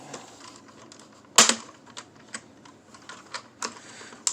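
A Transformers Kingdom Commander Class Rodimus Prime toy trailer is opened and unfolded by hand, with close plastic clicks and snaps. One sharp clack comes early, followed by a scattered series of lighter taps and ratchets.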